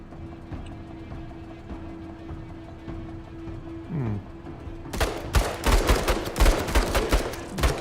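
Gunfire in the tactical game Menace as a soldier shoots at an enemy: a rapid burst of loud, close shots rattling for about three seconds, after a quieter stretch of game ambience and a short rising whine.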